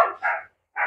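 A dog gives three quick, loud, close barks, the last after a short pause.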